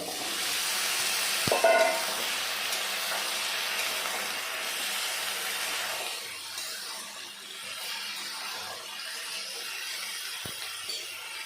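Cut gathi kochu (taro) and potato hitting a hot pan for a thin Bengali taro curry, giving a steady close sizzle and hiss with a brief clatter near the start and a soft knock later, no talk.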